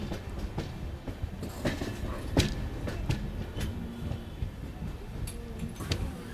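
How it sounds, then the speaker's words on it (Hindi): The Amrit Bharat Express pulls out of a Southern Railway station after a two-minute stop, its wheels giving steady clicks and clanks over rail joints, with louder knocks scattered through a continuous rolling rumble. "2 मिनट के स्टॉप के बाद निकल रही है अपनी अमृत भारत एक्सप्रेस"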